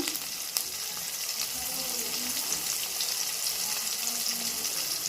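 Ground spices (chilli, turmeric, cumin, pepper) sautéing in hot oil in a pan for soybean curry, a steady close sizzle with faint stirring scrapes throughout, no talking.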